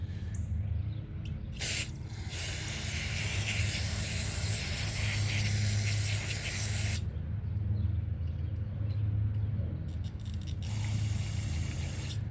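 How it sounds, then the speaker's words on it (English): Carburetor cleaner sprayed in a long, steady hissing burst into the carburetor of a 20-inch Bolens push mower, with short bursts before and after it and a low hum running underneath. "I know he sent me some carb spray a while back"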